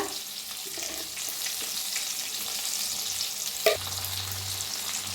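Soya rice roasting in a pan with turmeric and salt, a steady close sizzle and crackle of frying throughout, with a brief sharp clink of a spoon near the end and a low hum after it.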